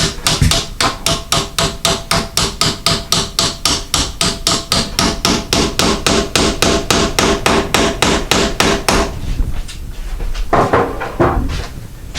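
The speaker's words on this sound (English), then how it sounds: "And then we take our hammer, tap it down" A hammer taps a door hinge pin down in a fast, even series of sharp metallic knocks, loud and close, ending in a few scattered taps.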